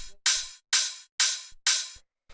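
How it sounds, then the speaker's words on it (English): A standard big techno open hi-hat sample hits four times in an even rhythm, each a bright, loud, hissing burst that decays quickly into silence before the next strike. "So the first one here is this open hi-hat"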